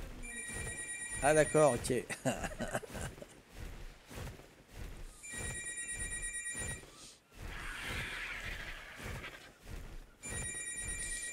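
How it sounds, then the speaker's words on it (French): A telephone bell rings in repeated bursts over several seconds, fairly clear though not loud, with people talking and moving about around it. "téléphone sonne."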